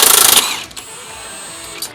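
Rapid rattling burst of an impact wrench removing a large suspension bolt during vehicle upgrades before an Australia trip, loud and close for about half a second, then a fading whir and quiet workshop air.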